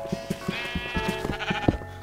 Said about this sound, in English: Those sheep are obnoxious.